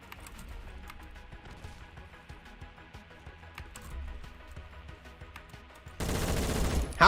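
HK 416 rifle fire in the video game Phantom Forces crackles as rapid, steady, fairly faint automatic shots across a busy match, then turns into a louder, denser burst of noise near the end.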